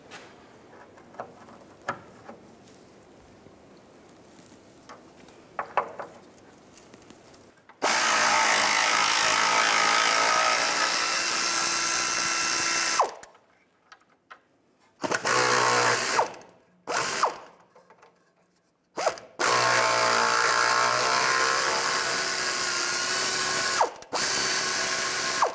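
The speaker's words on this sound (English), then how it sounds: "Use a 15 millimeter socket." Ratchet with a 15 mm socket loosening bolts on a 2002-2009 Chevrolet Trailblazer spare tire carrier, loud rapid clicking in long bursts separated by short pauses, close up with no talk.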